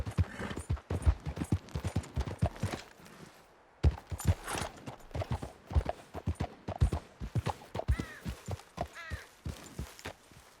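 Horse hooves clip-clop at a fast, steady rhythm through a galloping ride in the video game Red Dead Redemption 2, loud and close with a brief pause partway through.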